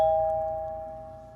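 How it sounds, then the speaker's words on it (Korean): A doorbell sound effect gives a single clear electronic ding whose steady tone rings out and slowly fades over about a second and a half, heard alone without speech. "갑자기 초인종 소리가 고요한 정막을 깼습니다."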